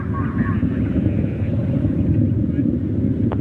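Soyuz-2 rocket carrying Progress MS-31 in flight near maximum dynamic pressure, a steady heavy low rumble with broadband roar, continuous and distant, with a narrator's voice faintly over it.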